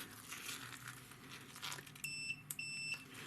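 A multimeter continuity tester gives a few short, high electronic beeps as its two probes touch together, ringing out faintly over a background of rustling and shuffling.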